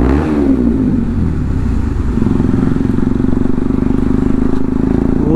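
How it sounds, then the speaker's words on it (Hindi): An NS200 motorcycle fitted with an aftermarket full exhaust system revs inside a tunnel, a loud, continuous throaty engine roar with rising pitch and rapid popping pulses, echoing and close. "ओहो भाई साहब गजब का साउंड भी करती है गाइस अपनी गाड़ी, क्योंकि अपनी गाड़ी पर लगा है एकरा पॉविक का फुल सिस्टम"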